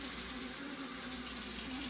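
Hot water pours steadily from a kitchen sink tap into a grease-clogged drain, a continuous even rushing hiss with no pauses and no voices.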